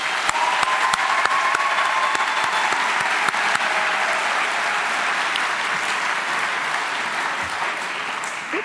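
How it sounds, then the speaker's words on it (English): Sustained, even applause from a large audience at a 2018 science academy graduation ceremony, honoring parents, grandparents and guardians; dense clapping holds steady throughout, with a few sharper individual claps standing out near the start. "Let's give a round of applause to all parents,"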